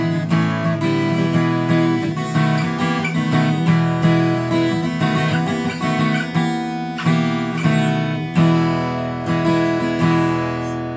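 Martin GPC-11e acoustic guitar played with long-life strings, a steady run of picked and strummed notes ringing out close and clear, alone without talk.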